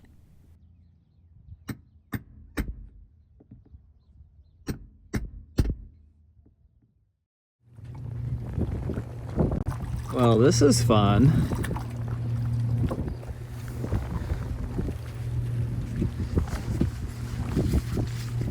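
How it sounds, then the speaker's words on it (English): Wind gusts rush and buffet around an anchored boat, with water slapping and rigging noise, after a quiet start with a few sharp knocks; a person speaks briefly. "The wind picked up a little bit."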